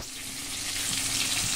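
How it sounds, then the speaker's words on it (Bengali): Three pieces of fish, a head and two tail cuts rubbed with salt and turmeric, frying in a pan, giving a steady close hiss of sizzling oil that builds slightly and continues without pause. "এই যে 3 পিস মাছ আমি ভাজা করতে বসিয়ে দিয়েছি"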